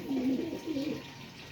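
Pigeons at a sale coo in a couple of low warbling phrases, close by over a steady background hum.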